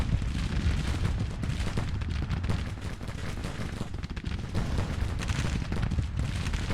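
Continuous rumbling massed musket and artillery fire from Civil War troops in the Grand Tactician strategy game, a dense crackling barrage with no pause.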